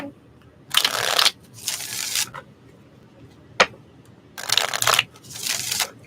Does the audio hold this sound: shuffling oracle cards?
yes